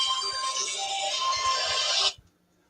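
A mobile phone rings steadily with a bright electronic tone, fairly faint, then cuts off abruptly after about two seconds.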